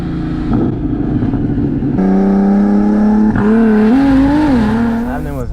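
A BMW M240i engine revs and accelerates hard while driving, its loud tone jumping in pitch and then rising and wavering under throttle, with no voices.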